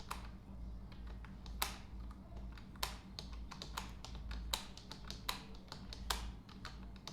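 Keys on a computer keyboard are struck in quick, irregular bursts of crisp clicks and taps, close and fairly quiet, over a low steady hum with no talking.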